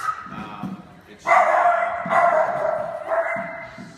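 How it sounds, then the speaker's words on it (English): Small dachshunds barking in loud, sharp bursts that sound fierce for their size, several overlapping barks close by with brief pauses between volleys, following a quieter stretch of background noise. "those were the wiener dogs"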